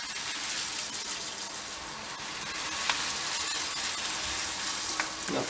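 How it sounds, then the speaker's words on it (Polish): Pilsner malt grain poured slowly into hot mash water at about 71 degrees for a homebrew hazy IPA, giving a steady close hiss and trickling rustle with faint splashing throughout, no voices. "Woda ma około 71 stopni, więc ja będę tu sobie powoli dodawał słody."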